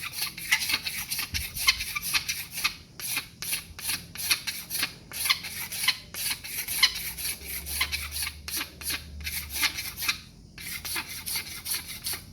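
A cheap sharpened fishing knife shaving wood from an Osage orange bow limb: rapid, rhythmic scraping strokes, close and crisp, repeating steadily with brief pauses, no talking.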